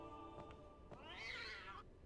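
A cat meows once in Final Fantasy X, a rising then falling cry of about a second, fairly loud over a steady bed of game music and ambience, with faint clicks before it.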